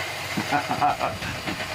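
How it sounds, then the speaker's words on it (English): A steady hiss of steam escaping from GWR 9351, a steam tank locomotive at Minehead on the West Somerset Railway, close and continuous, with a voice faintly mixed in. "it's got pressure behind it because there's still more steam coming out"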